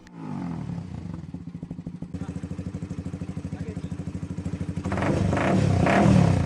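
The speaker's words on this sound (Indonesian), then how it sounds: "sepeda motor menggunakan knalpot bising" A motorcycle with a noisy aftermarket exhaust idles with a rapid, loud popping, then revs up into a rougher roar near the end.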